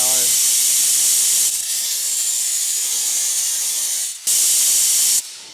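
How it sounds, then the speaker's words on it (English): Compressed air hisses loudly through the small oil passages of an old, rusty engine's rocker parts, a steady forceful blast with brief breaks and restarts, close and dominant. "now let's put compressed air through it and see if all the little holes are blowing"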